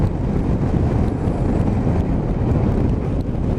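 A Honda CBF1000 motorcycle cruising in sixth gear at about 4,000 RPM and 65 mph, a steady, loud engine drone mixed with heavy wind rush, constant throughout with no breaks.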